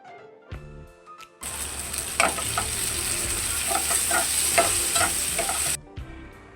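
Finely chopped tomato hits hot oil with onions for a green prawn masala and bursts into a loud, steady sizzle. Stirring scrapes sound through it, the sizzle stops abruptly near the end, and nobody speaks.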